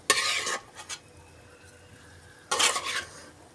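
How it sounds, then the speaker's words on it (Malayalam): Natholi fish dropped into a pot of boiling curry, two bursts of splashing, bubbling sizzle about two seconds apart with a faint clink between, close and fairly loud, no voices. "അപ്പോൾ ഇതിലേക്ക് മീൻ ഇടാൻ പോവുകയാണ്."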